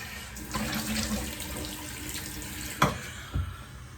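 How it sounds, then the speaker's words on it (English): Tap water runs into a sink to rinse alum off the face after a shave, a steady splashing stream with a couple of sharp knocks near the end. "let me get that alum rinsed off"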